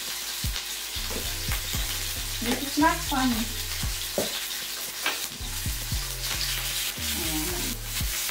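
Oil sizzles steadily as food fries on a Tefal Plancha Compact electric grill, with clattering utensil stirs and a brief spoken remark partway through.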